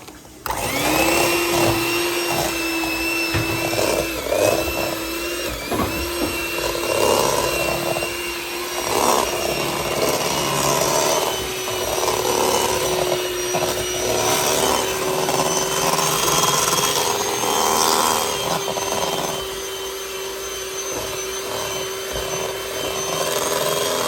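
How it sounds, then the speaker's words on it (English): An electric hand mixer whips cream in a home kitchen during holiday cooking, a loud, steady motor whine running nearly the whole time with slight shifts in pitch as the beaters move. "So I need my mixers, and then I'll show you after I mix it what it looks like."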